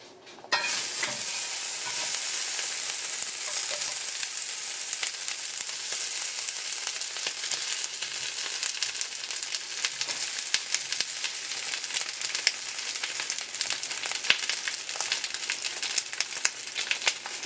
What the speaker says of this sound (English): So I'm gonna let this saute for a little bit, that way it will have time for the oil to come out.